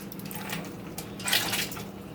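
Live blue crabs lifted out of water, with close, continuous splashing and dripping as they come out, steady through the clip and loudest toward the middle.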